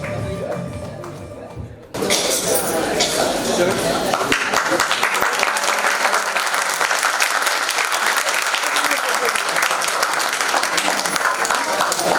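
A theatre audience bursts into loud, sustained applause after a stage play, the clapping starting abruptly after a brief spoken moment and continuing densely for about ten seconds, close and full.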